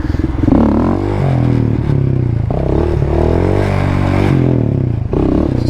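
A quad ATV engine revs loud and close through a wheelie, with the pitch rising and falling as the throttle is worked and a brief dip before it climbs again. No voices over it.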